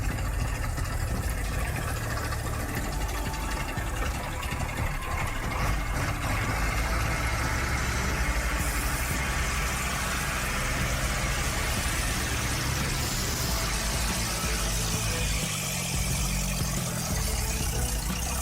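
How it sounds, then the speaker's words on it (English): Heavy-duty logging truck with a massive diesel engine, laden with timber and pushing through deep mud, gives a steady, loud, unbroken engine drone with low rumble throughout. "Its massive diesel engine drives oversized, deep-tread tires that claw for grip under a full load of timber."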